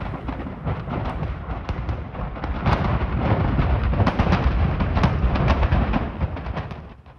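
Massive industrial fire in Clinton Township, Michigan, with a dense run of deep, booming explosions and crackling blasts rolling on continuously, loud and distant-sounding, building in intensity before fading at the end.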